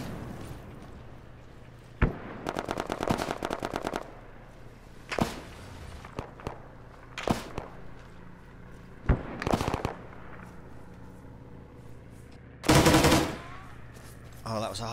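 Bursts of rifle and machine-gun fire in ARMA 3, heard as separate sharp volleys spread across the clip, some rapid strings and single cracks, and one loud close blast near the end, with occasional voices between.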